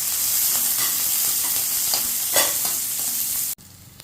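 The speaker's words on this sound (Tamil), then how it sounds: "இந்த வரமிளகாயும் பச்சை மிளகாயும் சேர்த்து போட்டு வதக்கணும்" Shallots sauté in a pan with dried red chilies and green chilies, a steady close frying sizzle with soft stirring scrapes and a louder crackle midway, ending abruptly near the close, with no speech.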